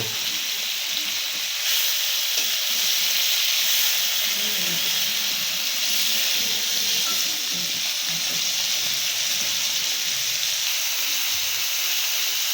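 A giant freshwater prawn fries in a pan during village cooking, producing a loud, continuous hissing sizzle that holds steady and close, with no break and no one talking.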